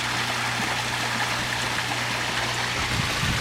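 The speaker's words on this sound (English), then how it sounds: "You can sit here with the waterfall, totally relaxing." A backyard patio waterfall in Reno, Nevada, gives off a steady, even rush of running water, close and continuous with no other sounds.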